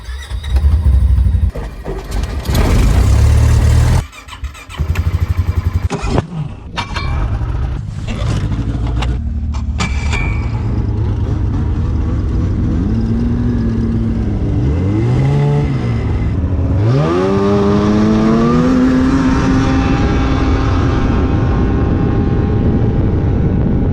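A 2024 Arctic Cat snowmobile engine cranks and catches after a few loud bursts of handling noise, then settles into a steady, close idle with a couple of short revs rising and falling.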